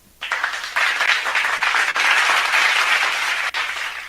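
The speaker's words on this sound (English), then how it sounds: "let us all give them a big warm of applause." An audience at a virtual expo opening ceremony applauds steadily for several seconds, a bright, even wash of clapping that starts abruptly and holds at a moderate level.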